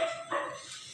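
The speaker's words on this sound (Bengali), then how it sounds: "কুকুর ডাকছে" A dog barks outdoors on a cool evening after rain: two short, faint barks from some distance, with no other sound.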